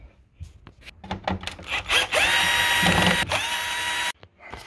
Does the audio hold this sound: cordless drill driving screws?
yes